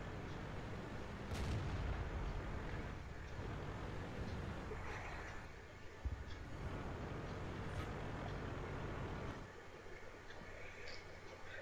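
In World of Tanks, a tank's main gun fires a single heavy boom early on. Dense in-game battle rumble follows, with a few fainter thuds and no talking.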